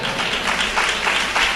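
An audience at a Tamil Christian sermon bursts into brief applause. The dense, steady hand clapping fills the hall for a moment, with no voice over it.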